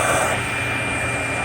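Vacuum cleaner nozzle pulling strong airflow while lifting carpet, a loud, close, steady rushing roar with no pauses over a second and a half.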